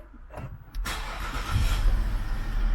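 A Jaguar XJL's engine cranks and catches after the start-stop button is pressed, surging to a loud, steady idle heard up close inside the cabin.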